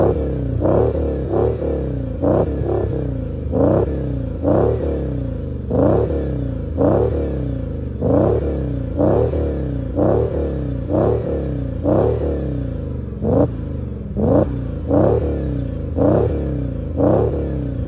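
A powerful Audi V10 car engine revs repeatedly in sharp bursts, roughly one blip per second, loud and close with brief pauses between each rev.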